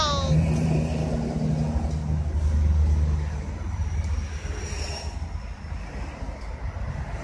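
Water sprayed onto car paint to rinse off a scale-dissolving cleaner, heard as a steady, loud broadband hiss and rush with a low mechanical hum underneath, close and continuous throughout.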